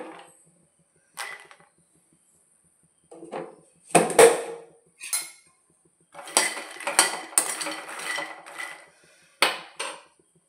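Lotus seeds are dry-roasted in a hot pan over a low flame. Sparse rattles and scrapes come as the seeds are stirred and tossed, with clustered bursts of clattering against the pan and quiet gaps between them.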